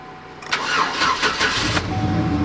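A car engine cranks in a quick burst of rhythmic turns, then catches and settles into a steady idle, loud and close, with no talking.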